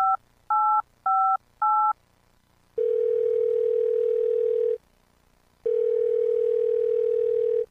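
In the video game Thimbleweed Park, a telephone gives four short, evenly spaced dialing beeps, then two long, steady dial-tone bursts separated by a brief silence, all loud and clean with no talking.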